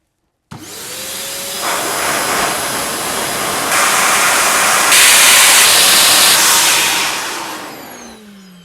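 A Bruhl motorcycle dryer blasts at full power with a loud, close, roaring whoosh that starts abruptly, climbs through higher settings and trails off near the end.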